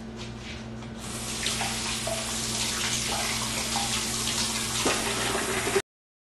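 A steady rush of running tap water pours into a sink as items, including one smeared with peanut butter, are rinsed under it, loud and continuous for several seconds with no talking.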